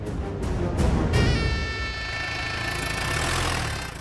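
A car engine idles steadily and fairly loudly as the car is brought round, a continuous rumble with a faint whine, and no one speaks.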